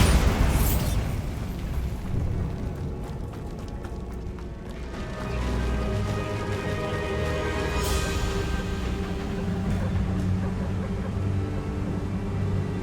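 A Bombarda spell blast in the Hogwarts Legacy video game, a loud booming burst at the start followed by rumbling debris and a lingering low roar, with a second crack partway through.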